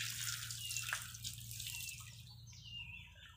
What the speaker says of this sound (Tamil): இப்போ தண்ணி வெளியே வந்துக்கிட்டு இருக்கு